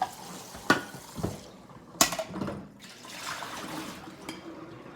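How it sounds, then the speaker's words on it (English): A coffee pot being rinsed and scrubbed with a bamboo brush and baking soda, with splashing water, sharp brush scrapes and knocks against the pot in irregular bursts, close and moderately quiet. "So I'm just gonna do a quick rinse with that, with the baking soda, and see"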